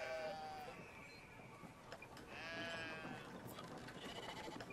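Sheep bleats from the video game Brothers: A Tale of Two Sons, wavering cries rising over a steady ambient game backdrop, with a couple of calls spread across the moment and no talk.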